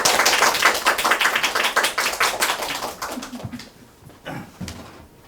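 Audience applause welcoming a math teacher at a parent information session for incoming high school first-years, loud dense clapping that thins out and fades to a few scattered claps.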